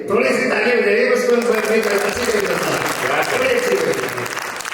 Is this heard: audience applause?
yes